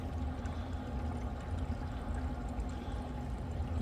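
Water rushes steadily through the line of an Aquael Hypermax 4500 aquarium filter, a continuous close, full gurgling flow with a low rumble and no breaks.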